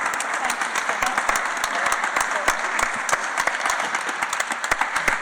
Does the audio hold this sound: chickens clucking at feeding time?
no